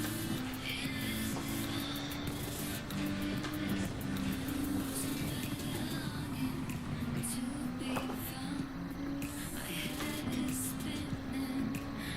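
A Honda race car in Gran Turismo 7 accelerates out of the pit lane at Road Atlanta, its engine a steady, loud droning tone that holds throughout under a wash of track noise.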